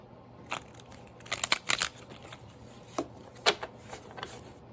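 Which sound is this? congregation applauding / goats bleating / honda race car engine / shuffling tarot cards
shuffling tarot cards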